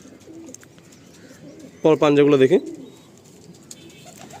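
A loud, close pigeon coo bursts out for about half a second among house pigeons, over low background noise, with someone talking nearby.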